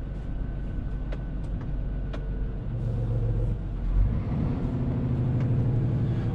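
A new Scania R truck with a 450 hp engine pulls hard under load, a deep steady rumble with a droning note that swells slightly midway, heard from inside the cab.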